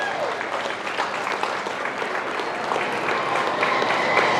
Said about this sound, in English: Let's give all 5 of our class winners a nice round of applause.